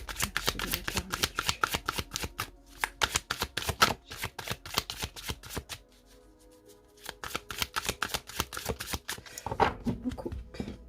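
Oracle cards shuffled and cut by hand, a dense run of quick crisp riffling slaps that pauses briefly midway before resuming, close and fairly loud with no talking.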